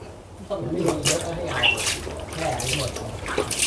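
Water splashing and trickling as a potted colocasia is soaked in a basin, irregular close sloshes and drips with someone talking over it.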